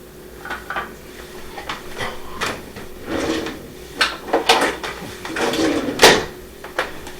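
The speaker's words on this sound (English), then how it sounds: "let's go ahead and put it into our press." A Reuben sandwich goes into a sandwich press, heard as a series of metallic clanks, knocks and scrapes of the press lid and kitchen hardware, irregular and close, growing busier toward the end.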